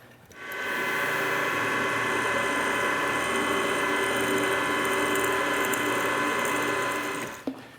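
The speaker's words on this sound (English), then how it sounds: "we'll go ahead and use this to drill and tap some holes here" A number 8 drill and an M6x1 spiral point tap cut holes in aluminum on a PM-940 milling machine, giving a steady, loud mechanical whirring drone with a fine rattling texture that runs for about seven seconds and then stops abruptly.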